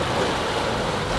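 Steady broadband rush of wind and water as a reefed-down sailboat sails at about seven knots in 15 knots of wind on a stormy passage, loud and unbroken, with no voices.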